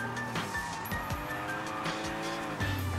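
A police car tears along in the video game Sleeping Dogs, its engine revving steadily while tires squeal repeatedly in short bursts, close and continuous.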